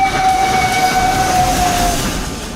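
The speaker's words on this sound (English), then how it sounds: "The experience of Japan's fastest train reaching nearly 200 miles per hour." Japan's fastest high-speed train, running at nearly 200 mph, rushes past as a loud, close, steady roar with a thin whistling tone, then the sound begins to fade toward the end.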